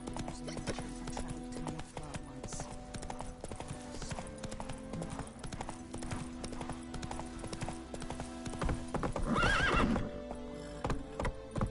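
Hooves of the horse Roach clip-clop at a steady gallop in The Witcher 3, with a loud whinny near the end and a faint voice underneath.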